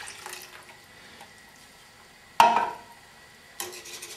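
Milk being poured into a pot of cheeseburger soup, a quiet background that breaks into a brief liquid splash and pour, followed later by a second short burst of pouring.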